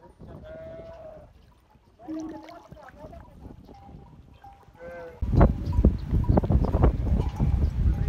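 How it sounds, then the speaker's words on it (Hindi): Sheep and goats heading to a desert village pond to drink, with scattered bleats and hoof shuffles that turn into louder, denser movement and splashing near the water. No one speaks. "अभी छोटे जानवर जो हैं भेड़िया और बकरियाँ वगैरह वो भी तालाब से पानी पीने के लिए जा रहे हैं"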